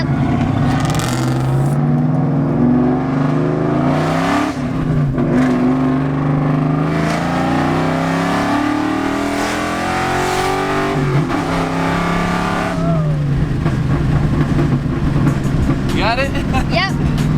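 A Mustang running nitrous accelerates hard from inside the cabin, its loud engine climbing through rising revs and gear changes, with a voice and an adult's voice talking over it.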